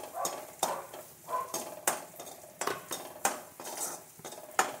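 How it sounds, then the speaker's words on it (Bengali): Raisins frying in a pan for cashew and vegetable fried rice, a spatula scraping and clinking against the pan in a steady stirring rhythm over a faint sizzle, fairly quiet and close. "কিশমিশ ভেজে নিচ্ছি।"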